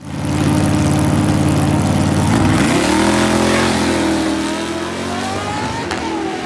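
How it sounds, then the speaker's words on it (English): A 1968 Dodge Dart drag car leaves the line off its trans brake: a loud, steady high-rpm engine drone that suddenly shifts pitch upward as the car launches, then keeps roaring as it pulls away. "as the light comes down and I let off the trans brake, the whole car compresses and then jumps out of the hole"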